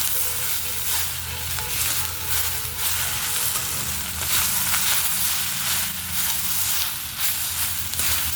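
Onion fries with a few spoonfuls of salt in a hot pan, keeping up a loud, continuous sizzle and hiss. Stirring scrapes come through now and then, close up, and no one speaks.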